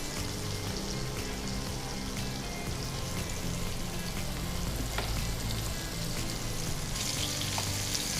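Chicken frying in oil in a home kitchen, with a steady dense sizzle and crackle running the whole time at close range, no voices over it.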